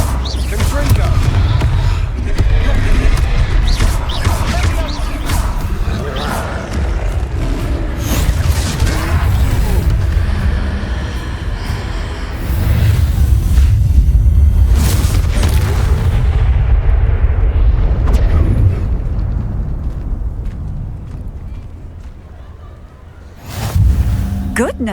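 A Confringo fire spell blasts against a troll in Hogwarts Legacy, loud booming impacts layered over game music and rumble, with dense bursts throughout and a sharp hit near the end.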